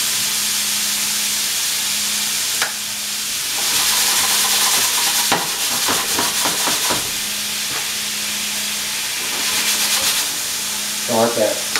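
Chopped seasoned pork sizzles loudly in a hot pan, with a steady frying hiss broken by repeated scraping stirs, close up and without talk.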